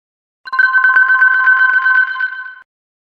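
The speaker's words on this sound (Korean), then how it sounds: "그때 전화가 울렸어요." A phone rings with a bright electronic ringtone in a dark room, one steady ringing burst of about two seconds, loud and alone.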